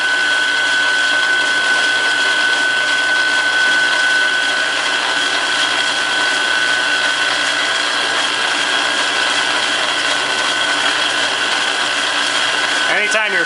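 A 1/4 inch drill bit boring an uncentered hole in metal on a machine during a steady rest jaws build, a steady high whine of the spindle with a constant mechanical hum, ending in a short ratcheting catch.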